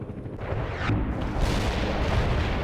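Artillery fire in the video game World in Conflict, deep rumbling booms and blasts rolling into a sustained heavy roar, no talk.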